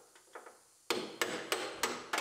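A multi-use pry tool serves as a hammer during B-pillar repair on a T-boned Honda CR-V, striking metal five times at a steady, roughly one-per-third-second rhythm after a few faint lighter taps.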